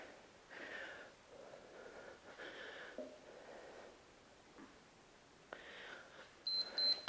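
Workout interval timer beeping near the end, a short cluster of high electronic tones rising above faint breathing and quiet movement.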